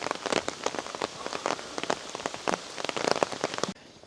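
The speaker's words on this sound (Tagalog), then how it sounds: "patilain muna namin yung ulan kasi mahaba pa yung araw namin and ayaw naman namin mamasyal na basang-basa kami" Steady rain pattering on surfaces in Kyoto, a dense wash of droplets with brief louder bursts, close and continuous, with no voices until it drops off abruptly near the end.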